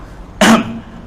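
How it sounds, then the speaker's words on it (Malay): A single short, sharp cough made deliberately to mock someone, close and loud, with a brief throaty tail before quiet returns. "Ni batuk tu nak perli orang."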